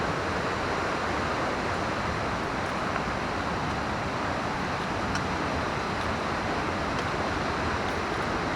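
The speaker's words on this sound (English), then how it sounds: "It just cascades down to the waterfall" Townhouse Falls cascading through the Nantahala gorge at Wesser, running strong, a steady close roar of rushing water that fills the whole clip without pause or voices.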